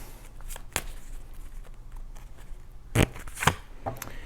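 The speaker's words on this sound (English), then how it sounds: "let's pull your oracle cards again" Oracle cards are handled and shuffled up close, with soft papery rustling and a few sharper riffling snaps near the end, fairly quiet and with no one talking.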